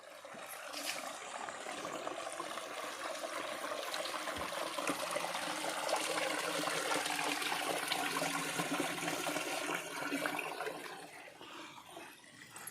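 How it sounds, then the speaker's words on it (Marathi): A perennial stream rushes steadily beside a temple in forested Konkan country, a continuous, broad water flow that stays fairly even and eases off slightly toward the end. "इकडे झरा आहे म्हणजे कायम पाणी वाहत असतं"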